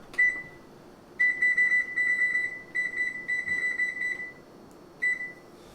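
A kitchen timer beeps in short, repeated high-pitched bursts, several clusters of electronic tones with brief pauses between them as it is set, clear and close in a quiet room.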